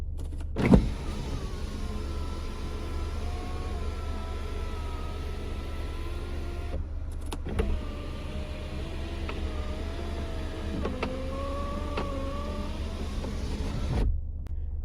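An electric motor whirs steadily as a car sunroof slides open, with a couple of soft clicks as it starts and stops.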